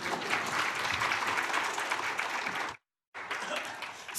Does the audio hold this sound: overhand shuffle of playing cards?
no